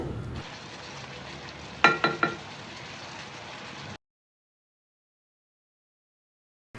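Prawn masala frying and sizzling in a pan with a few quick scraping stirs, then the sound cuts to silence partway through.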